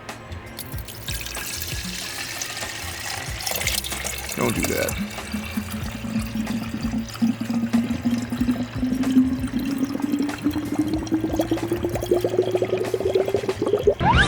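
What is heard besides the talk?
water running from a faucet into car heater core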